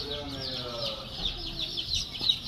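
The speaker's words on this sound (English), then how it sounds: "Look at the straight run chicken." Straight run meat-bird chickens cluck and chatter steadily at close range, a dense flock sound with overlapping calls throughout.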